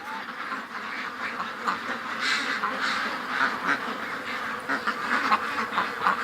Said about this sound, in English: What a crazy amount of ducks.